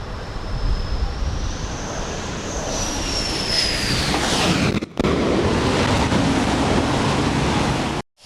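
FA-18 Super Hornet jets landing near the sea, a loud sustained jet roar with a rising, sweeping whine over wind and surf, cutting off briefly midway and again at the end.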